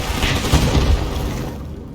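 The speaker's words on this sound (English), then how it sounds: "Fireball into" Fireball chained into an explosion spell in Divinity Original Sin II, a loud fiery whoosh building into a booming blast around the middle, then the rumble fading away over the last second.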